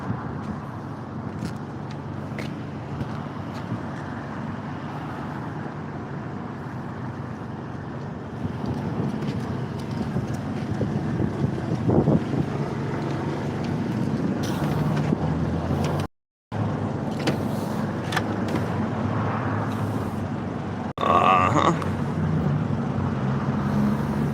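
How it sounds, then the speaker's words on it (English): Wind noise buffets the microphone on a boat, a constant rough rumble with gusts and a brief dropout partway through, and no talking over it. "The wind makes it really nice."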